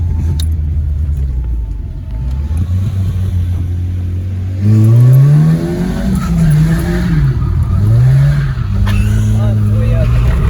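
Renault Super 5 GTS engine on the move, a steady low drone that swells into loud revving with rising and falling pitch sweeps as it accelerates and shifts, close inside the car with no speech over it.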